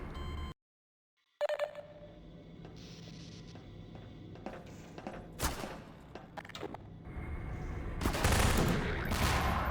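Gunfire in Half-Life 2: scattered sharp shots ring out after a brief dropout, building into a denser burst of shooting near the end.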